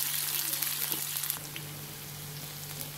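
Sliced shallots sautéing in a pan for Malaysian chicken curry, a soft steady sizzle heard faint and close, with a constant electrical hum underneath and no talking.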